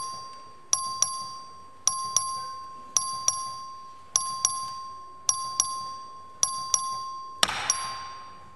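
A voting bell rung by the clerk on the floor of the Texas House chimes in paired dings, eight doubled strikes spaced evenly and ringing out between them, closing with a louder clattering hit; no one speaks.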